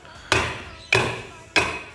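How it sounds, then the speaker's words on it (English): A weighty hammer tapping a bush and seal into an alloy winch case on a Warn 8274 high mount winch: three evenly spaced, sharp metallic knocks, close and fairly loud, each ringing briefly before fading. "I've got a decent sized hammer that's got weight to it, but I'm only giving it like pretty little hits from side to side"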